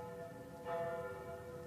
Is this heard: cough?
no